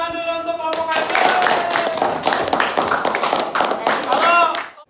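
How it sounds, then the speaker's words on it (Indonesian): A classroom applauds a student IT group: dense, steady clapping from many hands fills the space for several seconds, with scattered talk and voices mixed underneath. "tepuk tangan dulu untuk kelompok IT"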